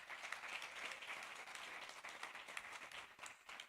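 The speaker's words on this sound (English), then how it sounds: "we really have to clap for him for what he is doing" An indoor audience applauding during a police dialogue event, a steady patter of clapping that sounds faint and distant throughout.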